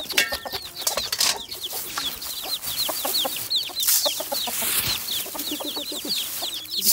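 Hen with young chicks on a farm: repeated soft clucks from the mother mixed with a busy stream of high, rapid peeping chirps from the chicks, close by and continuous.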